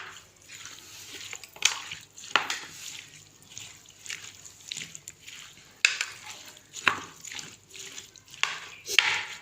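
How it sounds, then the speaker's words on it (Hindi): Chana chaat being mixed with chaat masala, black pepper and spices, spoon and chickpeas scraping and tossing in a bowl in repeated wet stirring strokes with sharp clinks, close and moderately loud, no talk. "1 खाने का चम्मच मैं चाट मसाला डालूंगी इसके अंदर। आप काली मिर्च भी डाल सकती हैं। इसको हमने अच्छे से मिक्स कर लेना।"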